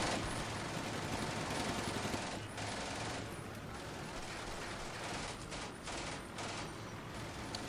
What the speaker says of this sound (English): This half-track is taking some light machine gun fire.